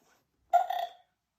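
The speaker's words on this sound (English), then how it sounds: "Burps Peppa. Excuse me." A single short cartoon pig burp, clear and close, standing alone between silence.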